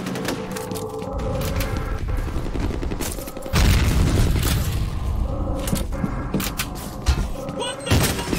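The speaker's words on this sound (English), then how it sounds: "Grenade out." A grenade goes off in a F.E.A.R. capture-the-flag online match, one sudden heavy boom in the middle of ongoing gunfire and thuds, followed by more scattered shots.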